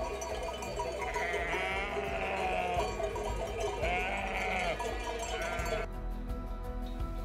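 A flock of sheep bleats loudly and continuously during a transhumance through the Haut Pays of Provence, many overlapping calls from near and farther animals, with no talk.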